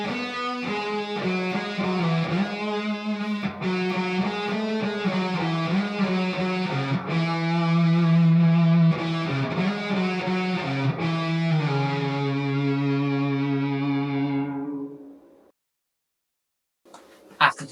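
Electric guitar with effects plays the intro of a song, a sustained, singing melodic line over steady chords for about fifteen seconds, then it cuts to near silence before a brief sound at the end.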